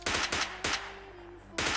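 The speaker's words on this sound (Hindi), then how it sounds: "गजब गोलियां आर पार जाती हैं।" Automatic gunfire rattles in a shooting video game, with two quick bursts, a single loud shot, then a pause before another burst, loud and close with no talking.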